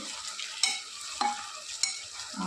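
Chopped tomatoes fry and break down in a pan for vangi bath, giving a soft, continuous sizzle broken by a few close, sharp spatula scrapes and taps.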